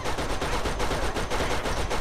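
Rapid, continuous turret gunfire from the video game Borderlands, a loud, dense stream of evenly spaced shots hammering without pause.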